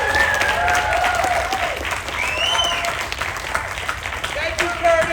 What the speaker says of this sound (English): So a round of applause for all these people.